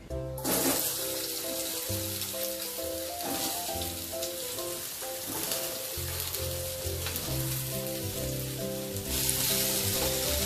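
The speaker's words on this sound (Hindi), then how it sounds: "अब इसमें हम कटे हुए आलू डाल देंगे।" Chopped potatoes sizzle loudly in hot oil with golden-browned cumin, a steady close crackling hiss that holds over a background of music.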